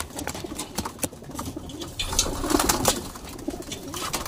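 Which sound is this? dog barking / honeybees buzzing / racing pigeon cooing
racing pigeon cooing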